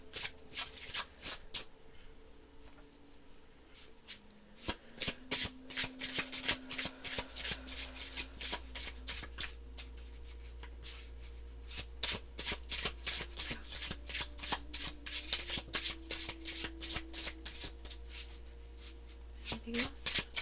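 Oracle cards from the Desert Rites Oracle deck being shuffled by hand: a long run of quick, crisp riffling flutters repeating in bursts, close and clear, while a voice hums or speaks softly in the background.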